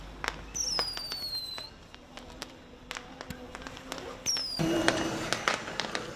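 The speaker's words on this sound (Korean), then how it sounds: "해변의 폭죽은 쉴 새 없이 터졌고" Beach fireworks burst in a steady run of sharp cracks and pops, with a few whistling launches, heard from nearby seaside lodging beside a busy swimming beach.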